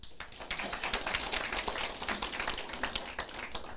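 A small indoor audience applauds at a lecture, giving a steady, moderately close patter of clapping hands that holds evenly throughout without speech.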